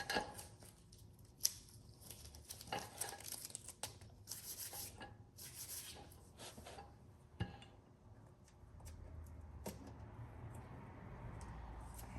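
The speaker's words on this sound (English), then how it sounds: "Now that it's starting to harden, peel your tape" Tape is peeled off a Dodge SRT-4 panel over hardening rust-repair filler in a series of faint, crackly tearing and ripping bursts with small rubbing noises in between.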